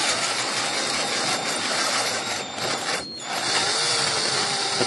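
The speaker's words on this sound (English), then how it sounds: "this drill bit, that hole's supposed to be that big, so I'm gonna drill it out" A power drill whines loudly and continuously while drilling out a hole in a used exhaust manifold for a Tracker, its pitch dipping briefly once as it bites, then rising again.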